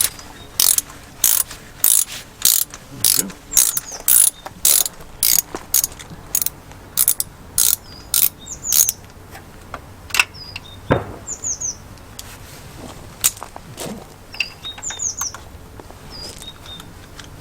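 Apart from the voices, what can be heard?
ratchet wrench removing spark plugs on a VW Fox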